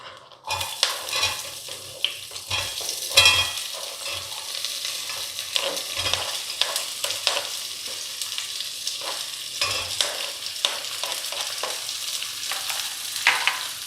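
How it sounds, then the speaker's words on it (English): Onion, ginger garlic and coconut fry in a pan as a spoon stirs them, with a steady sizzle and repeated scraping and clinks of the utensil against the pan. "I am frying this just to ensure you have to remove the rawness of the onion and ginger garlic, coconut"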